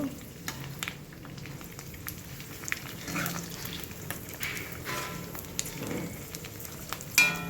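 Puchka puris frying in hot oil, with a soft steady sizzle and crackle. Occasional light clicks of a spoon or utensil are heard and a louder clatter comes near the end, with no talking.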